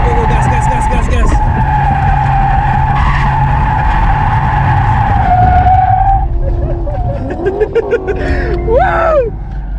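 BMW 530i E34 drifting at a drift event, engine roaring loud and near beneath a long, high tire squeal that fades out, then shorter skids and chirps follow as people talk.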